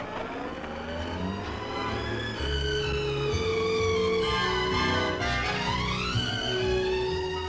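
A 1956 Austin A35 car pulls away at the start of a fuel economy test, its engine droning loudly and steadily with pitch climbing and shifting as it accelerates, close and continuous throughout.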